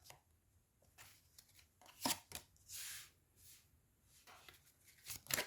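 Tarot cards shuffled by hand during a reading, giving soft irregular riffles and brushing bursts with one longer whooshing riffle midway, close and fairly quiet, with no talking.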